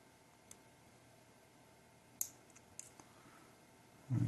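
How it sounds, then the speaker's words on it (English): Small wire clippers snipping excess coil wire on a FishBone Plus RDA build, a few faint, sharp clicks scattered in a quiet room, with a brief louder rustle at the very end. "And cut off a little bit of this excess here. If I can get in here with these little clippers."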